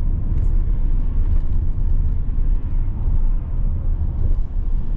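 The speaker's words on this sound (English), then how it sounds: "Look at the traffic." Road traffic rumbles past on Georgia 20 / US 411 by a 1956 bridge in Rome, Georgia, a loud, continuous low drone of passing vehicles with no break.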